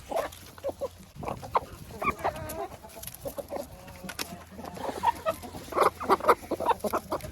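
Hens in a coop cluck and squawk in overlapping bursts, moderately close and fairly busy, with a few louder calls rising over steady background rustling and chatter; no talking.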